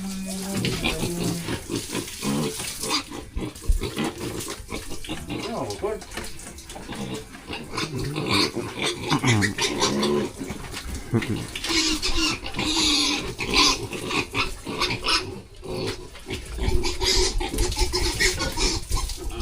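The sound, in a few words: pig grunting and squealing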